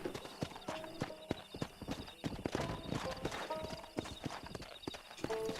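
Horse hooves clip-clop in the video game Red Dead Redemption, a brisk, steady run of close, crisp hoofbeats with occasional snorts, heard alone without talk.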